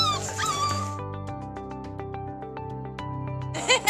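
Sled dogs yipping and whimpering in a run of high, whiny cries with steady harmonic tones beneath, ending in a sharp burst of yelps; close and fairly loud, with no talking.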